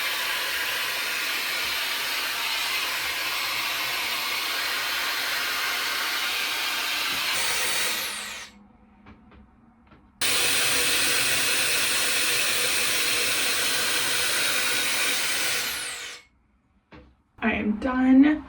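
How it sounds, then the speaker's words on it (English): Hair air wrap styler blowing on hair during styling, a steady loud rushing airflow that runs several seconds, cuts out briefly, then resumes before switching off. "then I go in with the air wrap"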